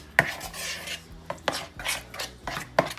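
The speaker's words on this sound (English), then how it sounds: "Now, I'm going to stir this together." Spoon scraping and stirring a thick casserole mixture in a big bowl, several distinct rasping strokes with clinks against the bowl, close up and alone with no talk.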